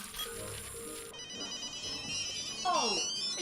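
A telephone ringtone rings while a call connects, electronic and fairly loud, with a voice talking over the ringing at points.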